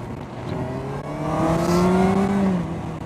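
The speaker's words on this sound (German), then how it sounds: "das Einzige, was ich höre, wenn ich fahre, ist mein Motor." The rider's own engine hums steadily on a road, then its pitch rises as it accelerates before easing off near the end, with no talking.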